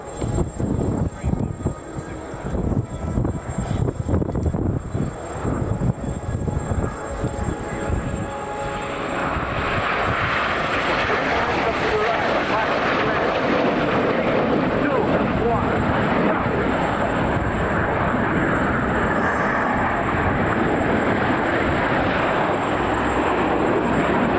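Military and display aircraft perform a full-throttle, high load factor solo pilot maneuver at the Royal International Air Tattoo 2025. Engine noise rumbles unevenly at first, then swells into a loud, sustained jet roar that fills the rest of the clip.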